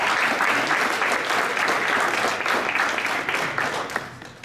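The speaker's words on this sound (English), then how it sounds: "Give one more round of applause for ATM Fast" An audience at a business school innovation contest gives a round of applause, full, steady clapping close and loud, thinning slightly near the end.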